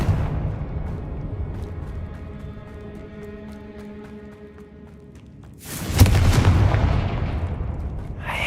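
Confringo fire spell blasts in Hogwarts Legacy combat. A low, tonal hum builds first, then a sudden loud explosive boom erupts and rumbles on for a couple of seconds.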